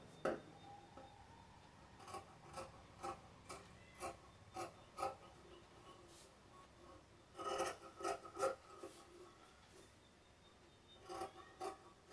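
Scissors cut through fabric while a child's top is being made, giving soft, dry rasping snips in short irregular bursts, close and fairly quiet, with pauses between runs.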